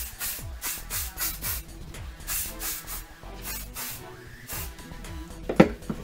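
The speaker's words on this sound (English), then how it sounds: "Let me just hairspray this." Hairspray sprayed onto curled hair in a string of short, close, hissing bursts with brief gaps between them, and small rustles of hair and handling in between.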